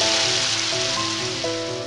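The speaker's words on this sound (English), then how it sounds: "Fat raindrops had started to fall without warning." Large raindrops start falling in a hill setting, a dense steady hiss of rain pattering on surfaces, close and continuous with no voices.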